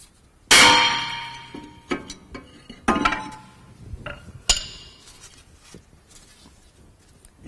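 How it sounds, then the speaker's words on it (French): A hammer strikes a worn front brake disc on a Smart Fortwo to knock it loose, giving about four loud, close metallic clangs with ringing decay, separated by quieter taps and clinks. "À l'aide d'un marteau, je vais décoller le disque"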